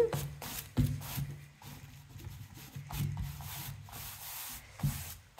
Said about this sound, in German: versuchen möglichst schön das glatt zu reiben